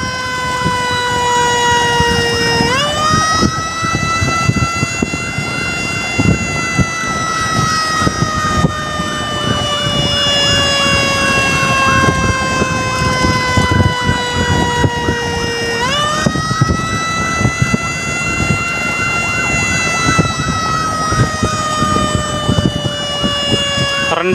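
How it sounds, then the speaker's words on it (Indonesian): A loud, slightly faulty emergency vehicle siren on an ambulance escort wails in long, sweeping tones, rising sharply and then slowly falling, repeating twice under background traffic rumble. "Soalnya ada gangguan sedikit di sirine nih."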